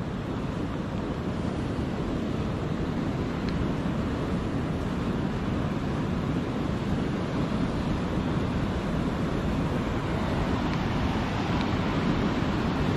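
Sea waves and wind on a rainy day at the shore, a steady, dense roar of surf and gusting air that stays even throughout with no talking.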